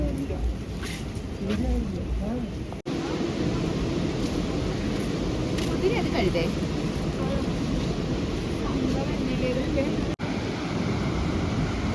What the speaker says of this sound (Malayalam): വെള്ളച്ചാട്ടത്തിന് ശബ്ദം കേൾക്കാം.